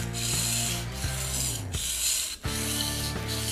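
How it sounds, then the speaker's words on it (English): A kitchen knife blade is worked back and forth while being sharpened, raising a burr along the edge. Steady, close rasping strokes repeat in a loud rhythm, with brief breaks between passes. "work the knife back and forth. And this is going to raise the burr on the edge of the blade."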